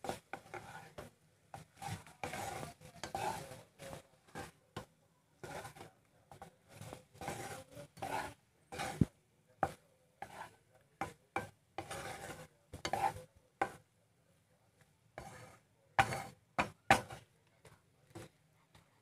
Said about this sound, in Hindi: अब मैं इसे अच्छे से मिला दूंगी सारे में